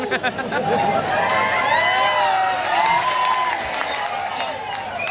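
A large audience at an Odia jatra performance claps, cheers and whoops loudly and continuously, with shouts and crowd chatter mixed into the sustained noise.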